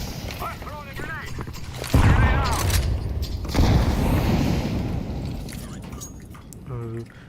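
A grenade thrown and detonating in Counter Strike 2, a loud burst of a boom followed by another blast shortly after, set among game noise and players talking over it.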